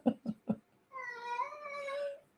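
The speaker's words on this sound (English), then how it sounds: "you can hear the cat." A house cat gives a long, drawn-out meow, close and fairly clear, following a few short spoken words.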